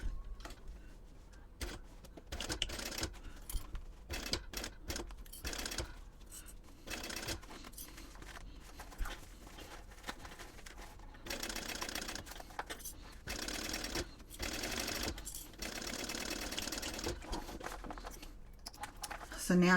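A sewing machine stitches pieces of a small purse in repeated bursts, buzzing runs separated by short pauses, close and fairly quiet, with a person talking between stitches.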